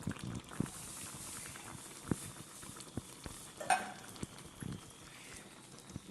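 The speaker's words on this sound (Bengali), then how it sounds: "আমি ঢাকাটা বাড়ি খুলি, দেখুন টপ টপ করে ফুটছে।" Fish curry simmering in a covered pot with the lid lifted, giving soft, irregular bubbling pops and faint sputters that stay quiet and close throughout.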